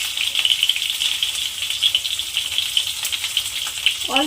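Potatoes fry in hot oil in a pan, giving a continuous bright sizzle and crackle close up with no voices.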